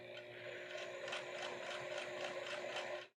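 A sewing machine top stitches the lining of men's pants, giving a steady, close rapid mechanical whir of needle strokes with faint rhythmic pulses, running continuously before stopping abruptly at the end.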